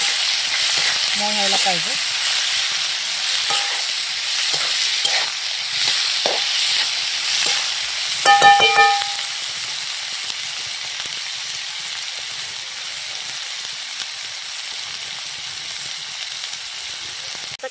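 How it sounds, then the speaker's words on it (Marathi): Onions sauté in a pan for Maharashtrian vangyache bharit, giving a continuous loud frying hiss with occasional stirring scrapes and clinks, while a voice speaks briefly early on. "थोडंसं आपण कांदा वगैरे ना परतून घेऊया."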